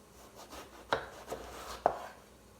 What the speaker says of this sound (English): I'm going to slice mine lengthwise, about 1/2 inch to 1 inch wide